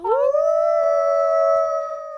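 A sustained howl voiced by a person imitating a wolf, rising at the start and then holding a steady, loud tone with no other sound behind it.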